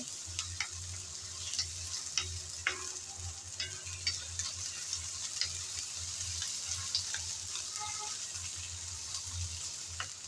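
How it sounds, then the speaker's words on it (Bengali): Onion frying with ginger garlic paste while being stirred in a pan: a steady close sizzle runs throughout, punctuated by scattered light scrapes and taps of the spatula, with no talking. "আদা আর রসুন বাটা দিয়ে আবারও পেঁয়াজের সাথে নেড়ে চেড়ে ভেজে নিতে হবে।"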